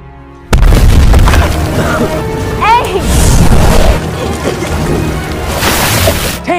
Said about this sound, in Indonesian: Tiba-tiba saja ada bom meledak.